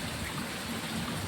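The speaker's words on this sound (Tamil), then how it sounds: "தண்ணி போகுது, அந்தளவுக்கு மழை வருது." Rainwater running past the front of a house during a heavy downpour, a steady close rush and trickle of flowing water with broadband hiss and no voices.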